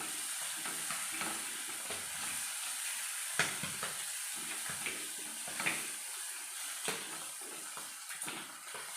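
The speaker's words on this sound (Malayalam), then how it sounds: "അതിലേക്ക് കറിവേപ്പിലോട് ഇട്ട് കൊടുത്ത് നല്ലോണം ഒന്ന് മൂപ്പിക്കാം കേട്ടോ" Curry leaves frying in hot oil in a pan for a Kerala home-style lunch curry: a steady close sizzle and hiss, broken by intermittent clicks and scrapes of stirring, with no talking.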